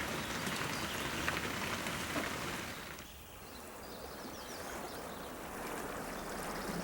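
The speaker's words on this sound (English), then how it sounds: "the rain quickly passes and the sun's back out" Steady rain pours onto clay ground at a gold prospecting dig, a dense continuous hiss that eases slightly midway, with no voices.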